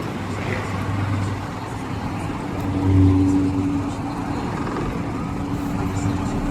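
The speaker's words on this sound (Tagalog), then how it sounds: "Traffic talaga sa panahon ito." Road traffic in Quiapo, Manila rumbles steadily as a broad low drone of cars and buses, with one vehicle swelling louder as it passes midway; a voice talks briefly.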